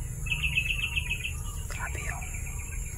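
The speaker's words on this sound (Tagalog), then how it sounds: "Grabe yung mga ibon na yan." Birds chirp nearby outdoors, a quick run of high tweets followed by fainter calls, over a steady low rumble and insect-like hiss.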